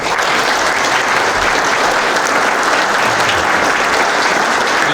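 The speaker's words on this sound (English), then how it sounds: "give them a big, big round of applause" A large Veterans Day ceremony audience gives sustained, loud applause, a dense even roar of many clapping hands with no break throughout.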